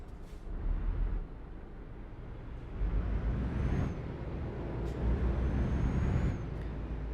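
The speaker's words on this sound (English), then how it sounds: "I have to hit my brakes." Truck air brakes hiss in Euro Truck Simulator 2 as the rig slows near a roundabout, a few sharp releases over a low steady engine rumble.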